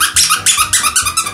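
A squeaky Crypto the Super Dog pet toy being squeezed repeatedly, giving about eight bright, rhythmic squeaks in quick succession, close and loud.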